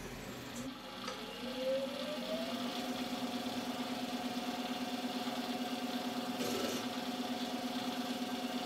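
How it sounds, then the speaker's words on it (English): A lathe turns a grinding wheel adaptor, skimming the diameter and cutting a chamfer; a steady mid-pitched machine hum runs throughout, with a rising whine early on and a brief scrape of cutting near the end. "just skimming down the diameter and machining on a nice chamfer"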